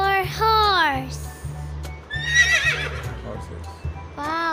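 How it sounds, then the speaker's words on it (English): A horse neighs loudly several times in a repeated whinnying pattern, with rhythmic clip-clop hoofbeats running underneath and music in the background. "H for horse. H for horse."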